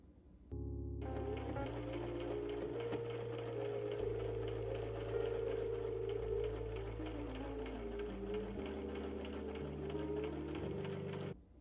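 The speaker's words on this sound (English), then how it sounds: "now we're just going to do a top stitch along the very top" Sewing machine running steadily for about ten seconds while top stitching along the upper edge of a quilted tote bag, a continuous close mechanical whir with slight speed shifts, then stopping.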